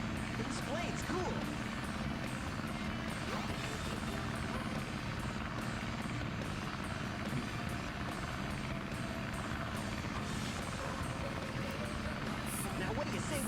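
The Tornado plane's engine in the video game Sonic Adventure DX: a steady whirring propeller drone holds throughout under game sound effects and talking.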